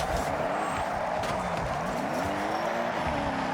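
Toyota GR GT drifting in Forza Horizon 6, its engine droning steadily under sustained tire squeal that rises and falls in pitch as the car slides through a drift zone.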